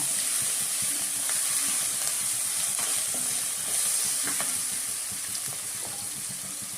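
Green chilies and masala with crushed peanuts sizzle in a pan for a Bengali-style brinjal curry, a soft steady frying hiss with occasional stirring clicks, no voices.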